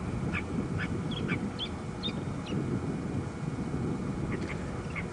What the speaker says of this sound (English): there's actually a few birds cheeping and chirping as we sit here